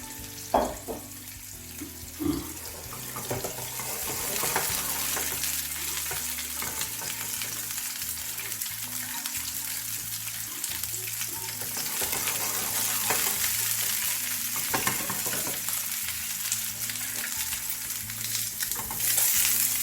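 Eggs frying in a pan, a steady close sizzle with occasional stirring and scraping, continuous with no talk.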